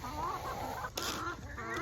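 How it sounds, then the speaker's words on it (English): Farm chickens, with a turkey nearby, clucking at feeding time, a busy close flock of overlapping clucks and calls with one louder burst near the middle. "Look at the little chicken over there."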